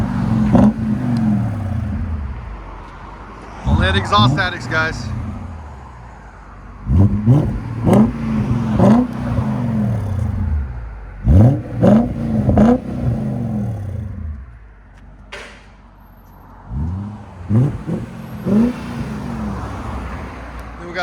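A BMW station wagon with a swapped M5 engine and a deleted muffler revs hard in repeated bursts, with loud, rising blips and rough exhaust crackle between them. The car is close by in a shop, and a voice talks briefly.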